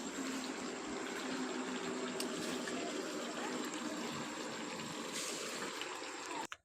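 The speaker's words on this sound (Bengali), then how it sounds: "মাংস কষানো হওয়ার পর দেখো ঝোল দিয়ে দিচ্ছি আমি" Water pouring into a pot of browned meat curry being cooked down, a steady broadband rush of liquid running continuously and fairly close for several seconds, with no talk over it.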